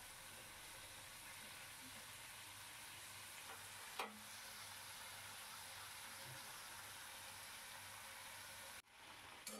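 Shrimp frying in a pan with turmeric, a steady close sizzle and hiss that runs throughout, broken by one brief clatter partway through and a short dip near the end.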